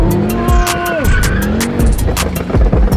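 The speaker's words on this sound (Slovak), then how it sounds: "Musíme tie zadné gumy rozflákať." Rear tires of a drifting car squeal loudly in repeated sliding bursts over a revving engine, with sharp rising and falling pitches up close.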